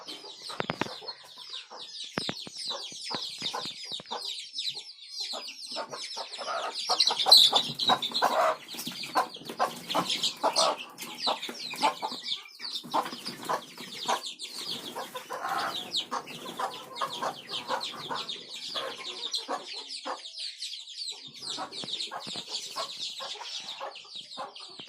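Domestic desi hens clucking continuously in their coop, several birds overlapping in close, busy, moderately loud chatter for the whole stretch, with no voices.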